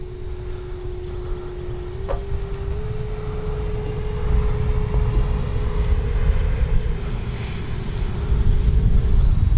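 An FMS Futura V3 radio-controlled electric ducted fan jet plane flies, giving a steady high whine with a strong rushing roar beneath. It stays continuous and grows slightly louder and closer toward the end.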